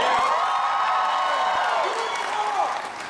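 A Comic-Con 2010 convention hall audience at the Chuck panel gives loud, sustained cheering, whooping and applause that fills the room, then eases off toward the end.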